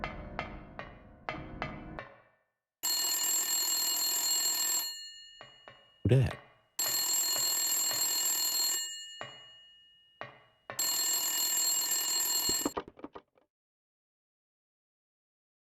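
In the Silent Hill video game, a telephone rings in three long, loud electronic bursts separated by short gaps, with a brief spoken line and a few clicks between rings.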